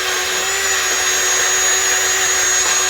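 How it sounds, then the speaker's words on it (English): A power wire brush spins steadily against the rusted hub flange of a Dodge Journey during a brake job, producing a loud, unbroken high-pitched whine and grinding hiss close by with no pauses. "So we're gonna clean this with our wire brush."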